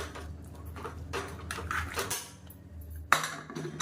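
A metal lid is set onto a pressure cooker in a home kitchen while a side dish is cooked, with faint clinks and scrapes of cookware followed by one sharp metallic clank near the end.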